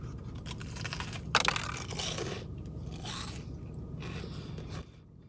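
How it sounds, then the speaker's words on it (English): Crunchy breaded Popeyes chicken sandwich being bitten and chewed close to the mic, a sharp crackling bite followed by several rhythmic crunching chews, with no talking. "The chicken breading, just crunchy like usual."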